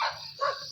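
Dogs bark at a roadside spot in the Philippines, one short yapping bark followed by another within a fraction of a second, moderately loud and close.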